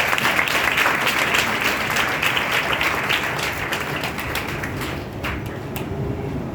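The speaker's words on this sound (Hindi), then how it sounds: "मैं चाहूँगी उसके लिए जोरदार ताली होनी चाहिए।" A crowd's loud, steady applause fills a hall at an achievement event in Raipur, dense clapping continuing throughout and fading slightly toward the end.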